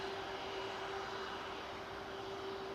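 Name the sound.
Airbus A330 airliner taxiing at Manchester Airport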